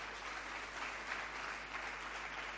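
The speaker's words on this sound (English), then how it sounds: "We have to give them a big round of applause" Audience applause at a government briefing on the electricity sector, a steady dense wash of clapping sustained throughout, fairly distant and even with no voices on top.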